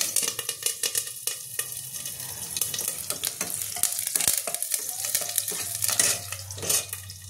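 Green and dried red chillies with curry leaves sizzle in hot tempering oil for a prawn malai curry. A loud, crackling hiss runs throughout, broken by stirring scrapes in the pan, close and with no talking.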